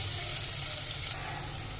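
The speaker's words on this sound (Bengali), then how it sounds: "তেল গরম হয়ে গেছে, দেব পেঁয়াজ কুচি" Chopped onion hits hot refined oil in a kadai, producing a loud, continuous hissing sizzle close by, with no voices.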